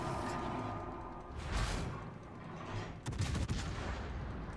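Naval gunfire in the World of Warships game: heavy, booming shell salvos from battleships, with a few loud blasts and rumbling, whooshing tails over a dense background roar.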